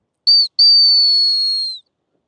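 A loud, sharp high-pitched dog training whistle, used with a Weimaraner: a short blast, a brief gap, then one long steady tone fading out, with no other sound around it.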